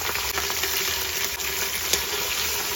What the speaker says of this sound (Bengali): একটু নেড়েচেড়ে বেটে রাখা মশলা দিয়ে দেব